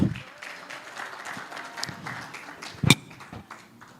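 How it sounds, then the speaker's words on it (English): Scattered, light applause from an audience at a national integrity awards ceremony as a recipient comes forward, faint and uneven with a few louder claps and some background voices. "Let's clap for Florence as she comes forward."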